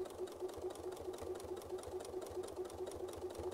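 A sewing machine needle stitches quickly during freehand quilting, making a steady, even mechanical whir with fast regular pulses, close and continuous with no talking.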